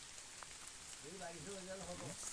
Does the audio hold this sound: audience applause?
no